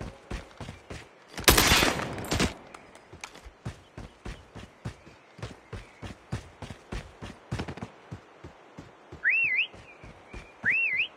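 A whistle is blown near the end, two short rising shrill blasts following a long stretch of regular sharp thuds and a burst of loud noise early on.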